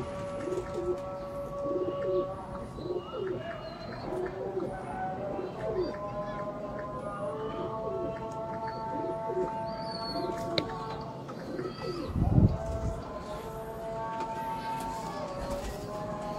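Rooftop pigeons coo and call in soft, repeated phrases close by, with other birds chirping around them and a brief low rumble partway through.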